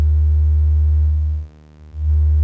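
A pure sine-wave fundamental tone from a Joranalogue synthesizer module, a steady loud hum that dips briefly in level before returning, heard alone.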